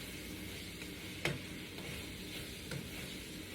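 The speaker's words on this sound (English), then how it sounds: "and then I allow it to cook in the frying pan" Faint, steady sizzling of food frying in a pan, with a couple of soft clicks or stirring taps.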